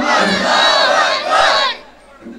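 A large crowd at a Bangla religious sermon gathering roars a loud unified chanted response to the takbir call, one sustained collective shout that swells, surges again and then cuts off.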